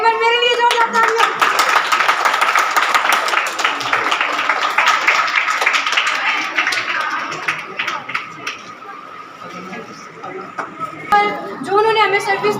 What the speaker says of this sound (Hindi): एक बार मेरे लिए जोरदार तालियां।